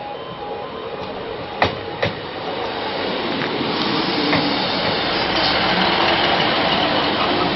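Train pulling out of Hykeham station toward Peterborough, a loud, close rolling roar that builds steadily, with a couple of sharp clanks early on and no voices.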